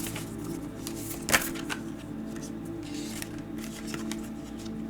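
Tarot cards being shuffled, a soft, steady riffling and sliding of cards with one brief sharper snap, over a low constant background hum.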